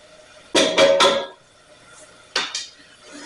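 Metal spoon scraping and clinking against a pot while asparagus soup is stirred, three quick strokes close together, then a pause and one more stroke, loud and close with no talk.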